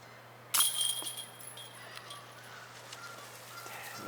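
Canada geese honk in a municipal park, one loud harsh call near the start followed by fainter, scattered honks in the distance over a low steady hum.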